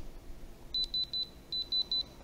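Six short electronic beeps from a diamond tester touching metal, in two groups of three, each a clean high tone, over a faint low background hiss.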